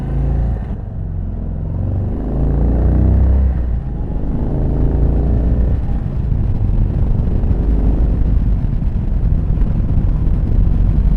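An Indian Sport Chief motorcycle engine rumbles loud and close on a test ride, its low drone rising and falling as it pulls through gear shifts, with steady wind noise and no talk.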